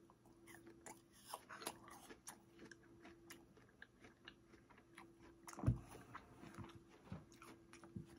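A salted caramel Rice Krispie treat is bitten and chewed up close, with one sharp crunch standing out midway among soft, scattered mouth noises.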